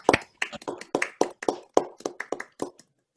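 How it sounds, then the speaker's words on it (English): Virtual applause for award winners on an online call: about a dozen close, sharp hand claps in a loose, uneven rhythm, ending after under three seconds. "we'll show a round of applause for the winners of the Social Impact Award"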